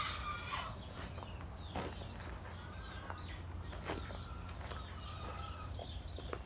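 Chickens cluck and squawk nearby in repeated short bursts over a faint steady background hum, and no voices are heard.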